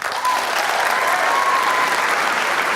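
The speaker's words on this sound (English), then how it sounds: "Clap your hands if you're from the region." Brief burst of audience hand clapping at a university freshman talk, loud and dense, starting abruptly and holding steady for a few seconds.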